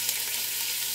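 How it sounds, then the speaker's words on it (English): Lamb sears in hot oil in a pot, producing a brief, steady and fairly loud hiss of sizzling with no talking. "We need to sear it, sear the lamb"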